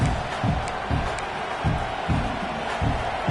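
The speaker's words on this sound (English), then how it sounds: "This crowd, full throat, spreading the eardrums and letting them know it's going to be a long day." A football stadium crowd roars in a steady, full-throated wash of noise. Rhythmic low thumps pulse underneath at regular intervals, like drumming or stomping in the stands.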